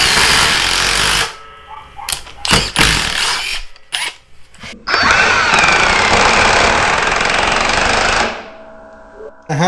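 A cordless impact driver drives a lag screw in loud, hammering bursts: a long opening run, a few short stuttering pulses, then a sustained burst of about three seconds before it cuts off.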